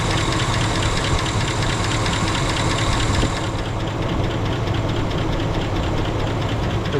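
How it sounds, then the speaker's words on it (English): A car's air conditioning compressor runs with the engine in a steady, loud mechanical drone and rumble that continues unbroken throughout. "The compressor is now staying on."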